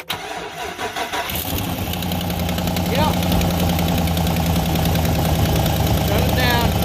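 A Chevy 2500 truck with a 6.0 engine, just repaired for a bad engine ground, cranks and fires, then settles into a steady, close idle while a voice speaks briefly.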